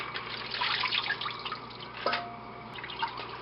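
Rinse water from washing escarole drains away, trickling and splashing steadily at moderate volume, with a few clinks and drips, and no talking.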